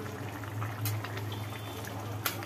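Potato and fried prawn curry boiling in a pan, a steady soft bubbling with a low simmering hum and a few small pops, close and fairly quiet.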